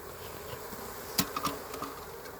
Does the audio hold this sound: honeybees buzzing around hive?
yes